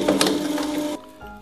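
A TPA01 plastic shredder runs loud and close for about a second with a dense, rattling mechanical grind, then cuts off abruptly, leaving a quieter motor hum.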